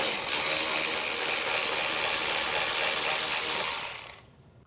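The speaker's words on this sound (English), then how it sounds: "So we'll remove that using an 8mm socket." Ratchet with an 8mm socket removing a fastener on a 2022 Ford during a base plate installation, a loud continuous whirring buzz for about four seconds that stops abruptly.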